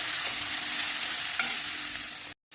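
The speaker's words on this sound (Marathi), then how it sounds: "आणि त्यामध्ये ही धुवून ठेवलेली शेंग टाकून परतून घेऊ व्यवस्थित।" Washed hyacinth bean pods sautéed with black masala spices in a pan, a loud continuous sizzle with a few scraping stirs, no voices, cutting off suddenly near the end.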